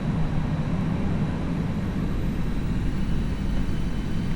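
Airbus A319 jet engines spooling up on the runway in the X-Plane 11 flight simulator, a steady, loud, continuous low roar with no talk over it.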